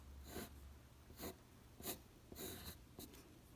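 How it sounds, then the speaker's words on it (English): A pencil scratches on paper while drawing a teardrop shape, heard as several faint, separate strokes over a low steady hum. "I am going to draw a teardrop or maybe a raindrop shape"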